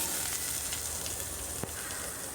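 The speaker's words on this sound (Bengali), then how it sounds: "ফোড়নটাকে এখন একটু খুব ভালো করে ভাজা ভাজা করে নিতে হবে" Whole spices and cumin frying in hot oil for a curry tempering, giving a steady, close, bright sizzle that holds even throughout, with one faint tap near the end.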